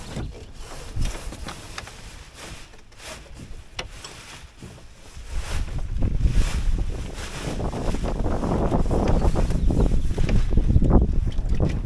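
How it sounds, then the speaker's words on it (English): Wind buffets a microphone aboard a Drascombe Lugger sailboat under sail on open water, a continuous rushing roar that swells louder in the second half, with low gusty rumbles and splashy texture throughout. "The wind's died down a little,"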